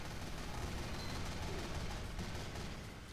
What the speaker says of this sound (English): I don't know what I'm shooting at, but I'm shooting.